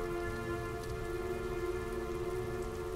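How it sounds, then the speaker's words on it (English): Steady rain falls in the video game Heavy Rain, an even, soft patter on surfaces with a faint tonal hum beneath, continuous and alone. "It's been 2 years and it hasn't stopped raining."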